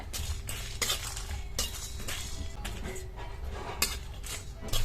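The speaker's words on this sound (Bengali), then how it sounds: "সামান্য একটু লবণ দিয়ে মশলাটা ভেজে নেব।" Whole dried chillies, cumin, coriander seeds and fennel dry roast with a little salt in a pan, giving soft scraping and clinking of a spoon against metal with faint crackle, close up and without talk.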